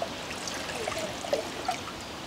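Water pours into the pot of a camping cooking system, a short, steady trickling splash heard up close and alone.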